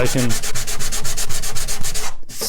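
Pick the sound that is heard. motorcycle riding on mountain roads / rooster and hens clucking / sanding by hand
sanding by hand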